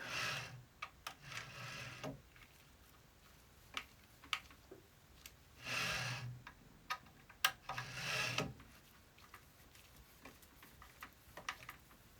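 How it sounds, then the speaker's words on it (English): Screws being tightened on the rear plate of a Prusa MK4 3D printer's Y carriage, heard as light intermittent ticks and clicks at close range with a few louder scraping bursts, no talking. "move the Y carriage to the rear plate, tighten all the screws in the rear"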